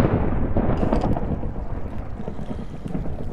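Thunder rolls through a Minecraft world as a loud, sustained low rumble that stays steady and washes over everything for the whole stretch.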